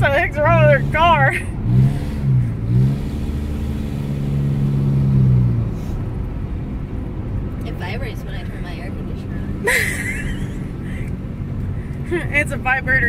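A car engine rumbles steadily from inside the cabin while driving to a vineyard, with a shaky ride, heard under lively women's chatter and laughter throughout.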